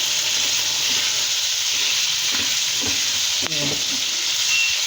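Beef kavurma sizzles steadily in its own rendered fat with no added oil, a loud continuous frying hiss broken by a few scraping stirs of a spoon against the pan.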